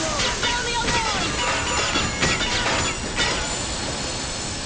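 A train in the video game Metro Exodus brakes hard, its wheels squealing in loud, shifting metallic screeches over rumbling rail noise.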